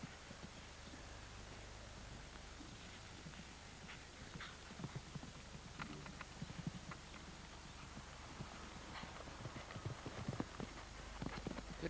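A show-jumping horse gallops around a Spruce Meadows course, its hooves clip-clopping in a steady, fairly close rhythm over a constant wash of outdoor background noise.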